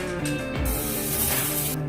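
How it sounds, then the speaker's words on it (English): Cooking spray hissing into the wells of a mini loaf pan, a short, close burst of airy spray sound lasting about a second amid steady kitchen background. "got to spray each well."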